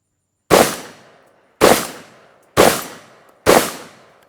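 A Vepr 12 shotgun fires Winchester 8-shot heavy target birdshot loads, four loud close blasts spaced about a second apart, each ringing off into a decaying tail.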